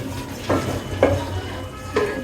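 Khichuri stirred in a pot, with a few distinct scraping strokes of a spoon against the pot, roughly every half second to a second, over a low steady hum, no talk.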